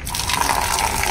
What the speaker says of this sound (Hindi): मैं फेंक देता हूँ और उसमें नया पानी भर देता हूँ